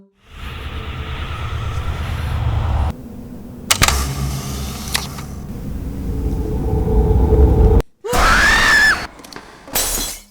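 A horror movie scene: a sharp crash as a framed picture falls and shatters on the floor, then a loud, shrill scream bursts out over a tense, rumbling backdrop.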